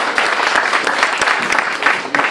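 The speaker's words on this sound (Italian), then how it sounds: "Un applauso." An audience at the opening of an election campaign office applauds a politician, loud, dense clapping from many hands, near and continuous with a few sharper individual claps standing out.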